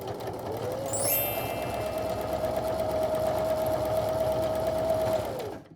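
Domestic sewing machine running a zigzag stitch while the fabric is walked back, a steady fast mechanical whirring hum held close for about five seconds before stopping.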